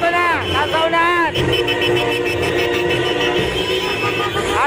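Many car horns blare at once in a political campaign caravan in La Union, loud and overlapping, with sustained honks and a din of engines and crowd noise around them.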